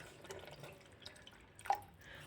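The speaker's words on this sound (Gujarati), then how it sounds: "એની અંદર હું 1 કપ જેટલું પાણી ઉમેરી દઈશ" About a cup of water is poured into pressure-cooker-boiled peas for ragda, giving a faint, quiet trickle with scattered drips and a brief splash near the end, heard alone.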